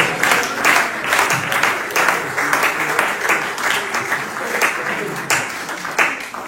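An audience bursts into sustained applause, loud and continuous clapping from many hands, with brief voices mixed in.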